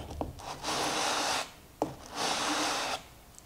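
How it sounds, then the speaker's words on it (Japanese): The wooden base of an inexpensive replaceable-blade Japanese hand plane is rubbed back and forth on sandpaper to flatten it, giving two long close abrasive scraping strokes, each with a light knock before it, heard with no voices. "安定させるためにこういったサンドペーパーですねに当てて削ってやると"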